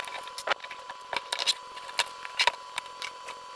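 Corroded debris from the magnesium body of a water-damaged Sony A7R III camera trickles and patters out in scattered light, dry clicks and rattles, close and fairly quiet, with no talk.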